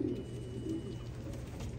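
Racing pigeons, a paired couple in a loft readied for road training, give soft low cooing calls, a few throaty repeated coos close by against steady background hum.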